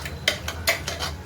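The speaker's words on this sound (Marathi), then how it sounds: "कुकरचं झाकण लावून घेतलंय" A metal pressure cooker lid clatters into place in a home kitchen, a quick series of five or six bright clinks and scrapes within about a second.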